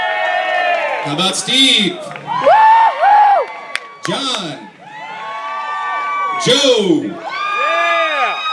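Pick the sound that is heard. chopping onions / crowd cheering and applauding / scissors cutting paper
crowd cheering and applauding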